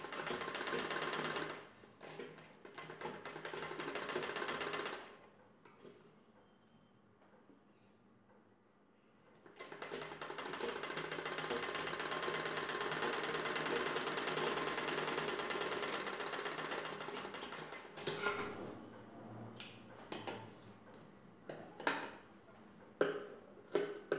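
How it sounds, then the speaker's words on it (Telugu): A sewing machine stitches a blouse piece in two long, steady bursts of rapid mechanical whirring, separated by a quiet pause, followed by short irregular clicks and taps as the fabric is handled. "ఈ పీస్ని ఇలా పైవైపునకు తీసుకొని పైవైపున కుట్టు వేసుకోవాలి."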